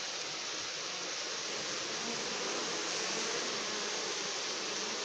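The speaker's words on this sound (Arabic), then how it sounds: "انظروا كيف بدأ النحل يدخل" Honeybees buzz densely at a hive entrance and landing board, a continuous, even hum of many insects close by with no other sounds.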